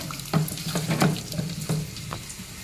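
Sour hog plums (amra) being mashed and squeezed by hand in a bowl, giving a run of wet, squelching pulses at an uneven pace, close and fairly loud.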